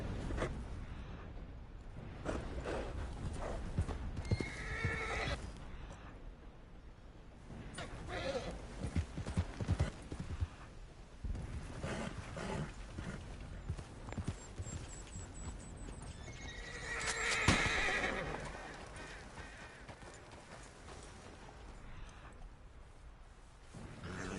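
Horse hooves clip-clop steadily with a whinny partway through, over a constant background hum and occasional faint talk, in the video game Red Dead Redemption 2.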